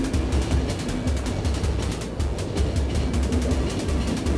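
A train in a post-apocalyptic zombie survival game rolls along with a steady low rumble and faint repeated clatter, continuous and fairly loud throughout, with no talk.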